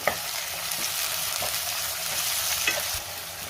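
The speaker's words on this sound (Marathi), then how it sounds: "आता त्यामध्ये टोमॅटो घालायचा आहे, टोमॅटो सुद्धा 2 ते 3 मिनिटं मी परतून घेणार आहे" Tomato frying with softened onion in a pan for chana masala, a steady close sizzle with occasional spatula taps and scrapes, no voices.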